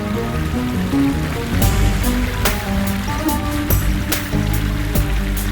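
A river runs along the bottom of a deep, narrow valley gorge in Cappadocia, Turkey. The water makes a steady, full rushing wash with scattered splashy spatters, close and continuous throughout.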